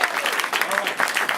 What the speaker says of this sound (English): Clap for Liam, number one.